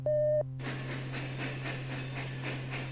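A brief steady tone, then a rhythmic chugging hiss of a train rolling along, repeating evenly, moderately loud with no voices.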